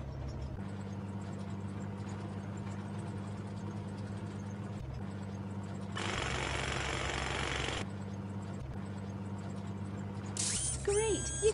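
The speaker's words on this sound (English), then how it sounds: "Move the mine drill around the mine to collect the shiny stones." Mine drill in the video game Nina's Earth Explorers, a steady mechanical grinding hum that runs continuously, rising into a louder burst midway before settling back, with a short bright electronic chime near the end.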